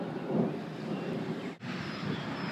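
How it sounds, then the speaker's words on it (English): Thunder rolls during a storm while rain drums on greenhouses, a steady broad rumble with a loud swell near the start and a brief lull midway, no voices. "Okay, so we're witnessing some thunder."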